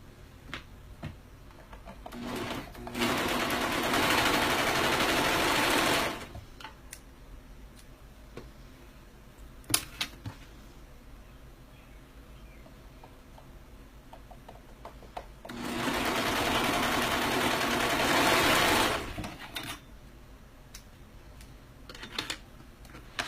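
A sewing machine stitches armbands in two bursts of a few seconds each, quiet gaps and small clicks between them, heard close and alone.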